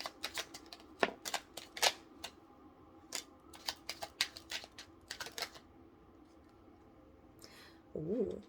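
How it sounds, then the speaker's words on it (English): Oracle cards being shuffled in a final shuffle, quick repeated riffling snaps in bursts, close and fairly quiet, with a pause and a faint sound at the end. "Final shuffle."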